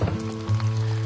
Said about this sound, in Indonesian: Masukkan tempe, goreng sampai kuning keemasan ya